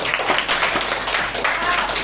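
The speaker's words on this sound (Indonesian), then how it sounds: "kasih tepuk tangan buat Paris" Classroom applause from a group of students, a steady patter of clapping lasting throughout, fairly close and even in level, with a voice faintly present underneath.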